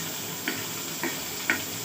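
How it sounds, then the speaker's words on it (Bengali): Chopped onion frying in oil makes a steady, moderate sizzle, with three soft stirring clicks spaced about half a second apart. "মরিচ মধ্যে পেঁয়াজটা দিয়ে দিয়েছি এবং পেঁয়াজটা একটু ভাজা ভাজা করে নিচ্ছি।"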